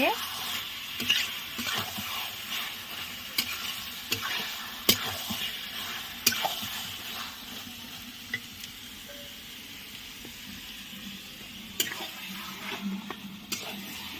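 Chicken being sautéed as kasha in a pan, with a continuous soft sizzle broken by repeated clicks and scrapes of stirring, close by and moderately quiet.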